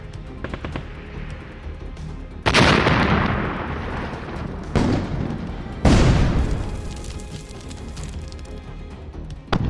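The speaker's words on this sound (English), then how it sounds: "Russian soldiers respond by throwing grenades toward the advancing Ukrainians" Grenade blasts in frontline combat between Russian and Ukrainian soldiers: three heavy, close explosions at spaced intervals, each a sharp broadband crack trailing into a long rumbling decay, over a steady background of distant gunfire.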